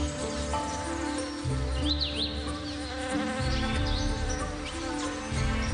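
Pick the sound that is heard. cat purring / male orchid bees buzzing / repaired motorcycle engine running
male orchid bees buzzing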